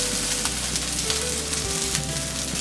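Chicken for Schezwan fried rice crackles and sizzles loudly in a hot pan with egg, a dense, continuous frying hiss close up with occasional stirring clatters and no voices.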